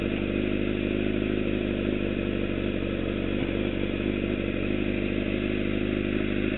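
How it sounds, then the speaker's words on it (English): A motorcycle rolls along at walking pace with the clutch fully let out and no throttle, its engine holding a steady low idle drone with faint mechanical clatter, close and continuous with no revving. "this bike goes 12 miles an hour just letting off the clutch."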